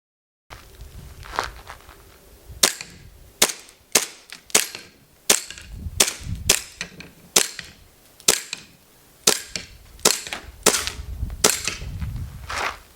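A chrome WE 1911 airsoft pistol fires about fifteen sharp, loud cracks in an uneven rhythm, each shot followed by a brief rattle, with no voices.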